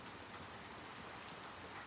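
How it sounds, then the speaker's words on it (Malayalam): Steady rain in the video game Little Nightmares 2, a dense, even hiss of falling water that holds at a constant level throughout with no breaks. "എടാ വീണ്ടും മഴ"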